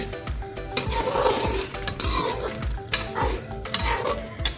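Spices frying with chopped tomatoes in a pan for chicken pulao, with repeated stirring scrapes and clinks of a spoon against the pot over a steady sizzle, close and moderately loud.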